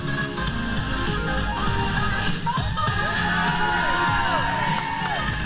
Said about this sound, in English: The crowd loving the celebration from Dream Girl Ellie.